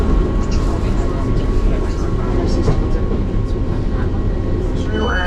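A train rumbles at Cardiff Central station on a wet, windy day, a loud, continuous rolling roar with faint squeals and clanks, and voices are heard over it.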